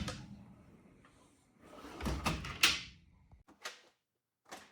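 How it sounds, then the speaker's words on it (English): A tool chest drawer with single-handed release slides open and eases shut on a soft-close runner, giving a rolling slide, a muffled thump and a few light clicks and taps, close and clear. "Single-handed release and opening of drawers with"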